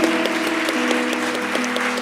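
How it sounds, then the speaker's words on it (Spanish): A worship congregation claps in applause to the Lord, the steady clapping mixed with sustained organ or keyboard chords ringing underneath. "Demos un aplauso al Señor."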